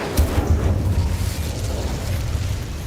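An Incendio fire spell cast in Hogwarts Legacy lets out a loud, boomy burst that opens with a sharp hit and then settles into a low, rumbling roar that slowly fades.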